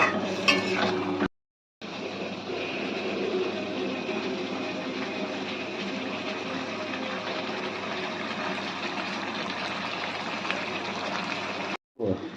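Fish curry masala with taro and potato, made with large Bengali fish and spice-rinsing water, is stirred and fried in a pan: a continuous sizzle with scraping and clinking of the spoon, broken by two brief cuts to silence.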